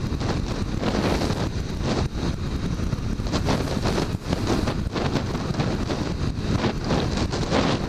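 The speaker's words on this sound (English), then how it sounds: "They have actual wind advisories today, which means that the non-gusts are supposed to be like 30 miles per hour, gusts of like 40." Strong gusting wind on an extremely windy day with a wind advisory in effect, roaring steadily and loudly across a ride with turbulent buffeting on the microphone throughout, no voices heard.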